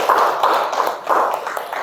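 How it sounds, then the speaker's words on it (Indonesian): A classroom of students applauds group 2: short, rhythmic bursts of clapping, fairly close and thin-sounding, repeating about every third of a second. "tepuk tangan untuk kelompok 2"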